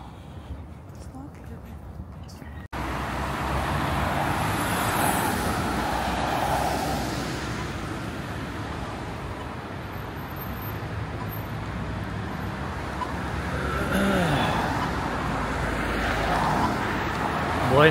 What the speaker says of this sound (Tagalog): Daming kotse.